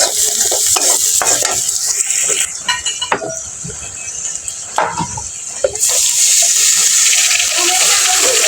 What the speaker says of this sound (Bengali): পেঁয়াজটা ভাজতে থাকি